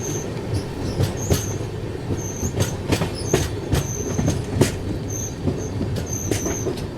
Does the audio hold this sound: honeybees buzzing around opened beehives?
no